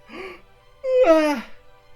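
A short breathy sound, then a long drawn-out vocal yawn that rises and falls, close by and fairly loud.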